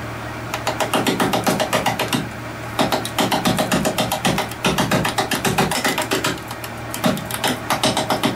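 A eucalyptus root ball spins on a wood lathe at 450 RPM, producing a loud, close, rapid rhythmic thumping and clatter with each rotation over a steady motor hum, broken by a couple of short pauses.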